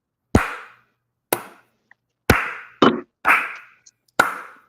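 Six slow, widely spaced hand claps ring out loud and sharp one at a time, each with a short decay and irregular gaps of about a second between them.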